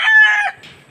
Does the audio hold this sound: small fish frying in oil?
no